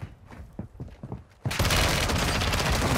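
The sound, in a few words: gunfire in video game Warzone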